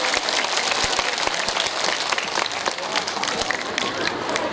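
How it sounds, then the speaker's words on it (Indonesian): An audience at a lively Javanese religious talk applauds in a dense, steady burst of clapping, loud and close, sustained throughout. "tepuk tangan dulu dong."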